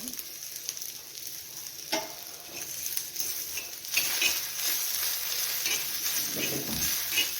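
A cinnamon stick and cloves dry-roast with coriander seeds in a pan, a constant close hiss with occasional light clinks and scrapes of a spoon, fairly loud and without speech.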